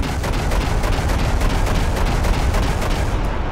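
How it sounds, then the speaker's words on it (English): A dual-blast huge autocannon in From The Depths firing in rapid succession, a dense, loud stream of heavy booming shots hammering steadily without pause. "fire them in succession. Then we really get a kind of cool autocannon blast."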